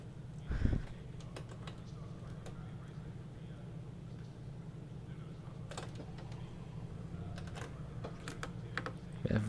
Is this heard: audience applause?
no